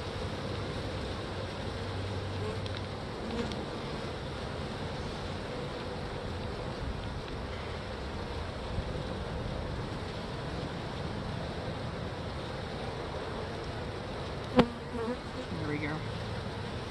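A dense, continuous buzzing of many honey bees in a hive, festooning on the inner cover, hums steadily throughout, close by, with a brief knock near the end.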